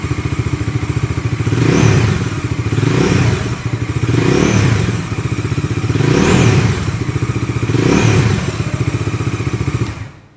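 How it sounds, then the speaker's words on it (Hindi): A 2025 Bajaj Dominar 400 motorcycle engine rumbles loudly with deep exhaust pops, revving up and easing back about four times in a rising and falling rhythm. "बाइक स्टार्ट करोगे तो कुछ ऐसा आपका जो है वो एग्जॉस्ट नोट मिलने वाला"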